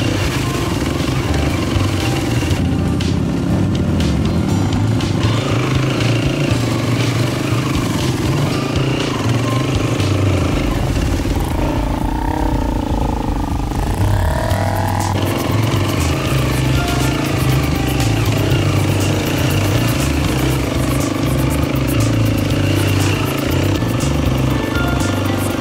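Enduro motorcycle riding on trails in Cambodia, its engine droning steadily and loudly throughout with rattling clatter and shifting revs, no talk.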